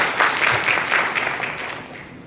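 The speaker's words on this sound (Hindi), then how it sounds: "आप सर के लिए जोरदार ताली आप सभी के लिए" Audience at a direct selling seminar in India applauding, a loud, dense burst of clapping from a crowded hall that gradually tapers off.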